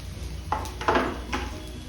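Sliced tomatoes go into a pan of sizzling beetroot chutney, giving three short scraping clatters of utensil against metal over a low, steady frying hiss.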